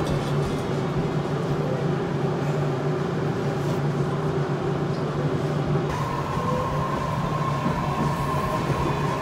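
A Tobu line local train bound for Kashiwa rumbles steadily at Kasukabe Station platform, with a low mechanical drone and a rising tonal hum from the motors.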